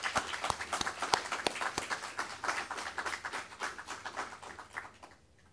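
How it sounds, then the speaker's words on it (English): An audience at the opening of a research symposium claps, starting with a few loud, distinct claps that swell into full applause and then fade out toward the end. "may we applaud Doctor"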